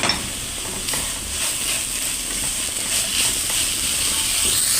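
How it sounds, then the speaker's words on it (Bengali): Boiled radish fries in a pan for radish payesh, a bright steady sizzling hiss that stays loud and even throughout, with a few soft clinks of stirring underneath. "মূলাটা সিদ্ধ করে আমি সেঁকে নিয়েছিলাম, এই যে এখন আমি ভেজে নেব।"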